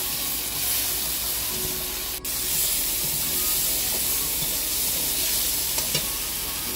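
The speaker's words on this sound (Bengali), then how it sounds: "আর দেব বেটে রাখা আদা, কাঁচা লঙ্কা আর জিরের পেস্ট দিয়ে মশলাটাকে সুন্দর করে কষিয়ে নেব।" A spice paste of turmeric, ginger, green chili and cumin fries in oil in a pan, giving a steady loud sizzle and hiss with a few faint stirring knocks, close and without talk.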